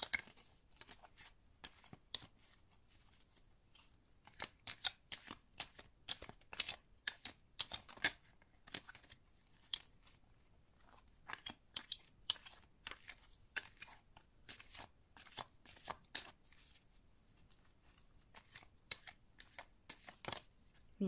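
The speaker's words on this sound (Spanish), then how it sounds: "Vamos a sacar más cartas para ver qué más nos puede decir el tarot." Tarot cards are shuffled by hand and drawn from the deck, giving a run of close, crisp riffling and slapping clicks in irregular bursts with only brief pauses between them, and no talk over the card noise.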